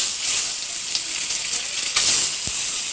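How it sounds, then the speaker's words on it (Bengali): Egg sizzling in hot oil in a pan, a steady dense crackling hiss that runs without a break, with a few sharper spits and one soft bump near the end. "ডিমটাকে একটু ভেজে নেব।"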